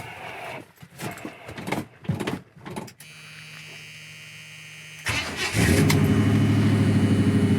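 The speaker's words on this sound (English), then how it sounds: "show you how it sounds when you fire it up. Let's fire it up. Let's get it idling" A farm truck engine converted to an electric fuel pump: a few choppy handling noises, then a steady electric whine as the pump primes, followed by the engine cranking and catching into a loud, even, rumbling idle.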